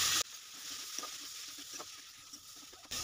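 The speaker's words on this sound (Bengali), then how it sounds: "ক্যাপসিকামটা অল্প ভাজা করে নিয়ে এখানে আমি টমেটোটা দিয়ে দিচ্ছি" Chopped capsicum with turmeric and chilli powder frying in a pan, a soft steady sizzle with light stirring scrapes, brief and close.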